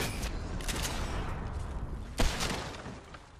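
Bursts of gunfire in Fortnite, with several rapid shots early and one louder blast later, set against a dense, busy game background.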